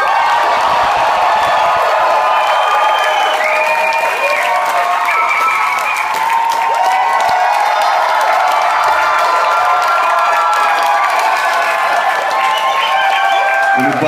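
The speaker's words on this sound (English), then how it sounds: "They'll start cheering again if you hold it long enough." A live concert audience cheers and applauds steadily and loudly throughout, a dense continuous roar of clapping, whoops and shouts.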